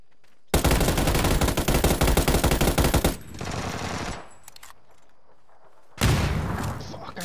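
Grenade blast and gunfire in the battle royale game PUBG: a loud, close burst of automatic fire rattles for a few seconds, fades to a lower rumble and quiet, then a second loud burst erupts.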